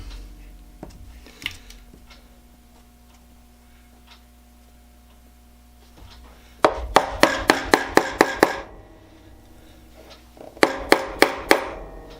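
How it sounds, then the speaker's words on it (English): A scratch awl is tapped into wood to start a hole for a toilet paper holder, giving two quick bursts of crisp, evenly spaced taps, about eight then four, close and loud over a faint hum. "I'm going to put a hole using this scratch awl right square on the cross hairs"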